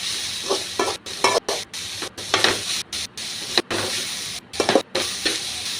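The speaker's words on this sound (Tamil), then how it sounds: "எண்ணெயிலே முட்டைக்கோஸ் வதக்கி விட்டா" Shredded cabbage sautéing in hot oil in a pan, a steady sizzle broken by repeated scraping stirs of the spoon at an irregular rhythm, close and clear with no talking.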